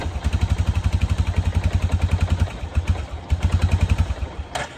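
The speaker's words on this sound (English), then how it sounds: "you get to hear a bike by the end of the video" A neglected ATV engine runs in cold weather with a rapid, steady thumping pulse, close and fairly loud, briefly stumbling twice before settling back into its chugging rhythm.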